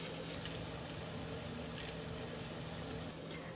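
Chiles char in a hot pan for a tomatillo salsa, giving a faint, steady hiss and sizzle with a low hum beneath and a few soft spatters, with no talk.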